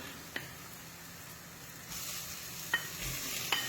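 Beef and onions frying together in a pot for a beef madras, giving a steady low sizzle with a few sharp stirring scrapes, close and fairly quiet.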